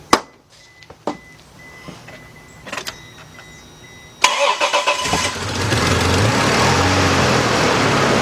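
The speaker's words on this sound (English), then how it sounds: "Let's start this car." A Chevy LUV / Isuzu Rodeo engine being started after fuel pump work: a few sharp clicks and knocks, then the starter cranks with a burst of chugging before the engine catches and settles into a steady close idle.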